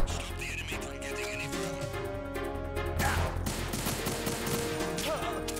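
Gunshots from the video game Metal Gear Solid 2, a few scattered reports over steady game music and ambience, with a denser burst near the middle.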